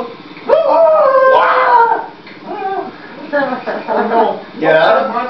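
A dog howls and yips from behind a door, loud and close. Whining cries keep rising and falling in several bursts, mixed with voices.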